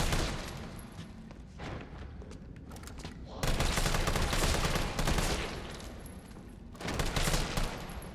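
Assault rifle fire in the Resident Evil 3 Remake video game, loud continuous bursts layered with game ambience, with a short lull before heavier firing resumes.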